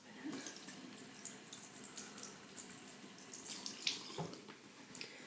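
A makeup brush is rinsed under a running bathroom tap, a steady soft hiss of flowing water with small splashes and drips, close but quiet, with no talking.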